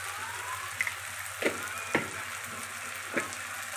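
Spice masala of ginger with Kashmiri chili powder frying in a pan, a soft steady sizzle broken by a few sharp clinks and scrapes of a spoon.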